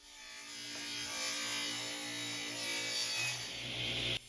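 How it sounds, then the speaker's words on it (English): A saw rips oak salvaged from an old piano into 1x2 strips, a continuous close-up rasping cut that builds and holds steady for several seconds before stopping abruptly. "I started by ripping the oak from the old piano into 1x2s"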